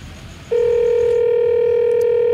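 A telephone emits a single steady electronic tone lasting nearly two seconds, clear and close over a faint background hum, as a call is dialed.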